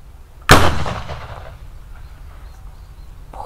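A homemade methylated-spirit firecracker gives a single loud, sharp bang close by, followed by a long fading rumble and quiet outdoor ambience.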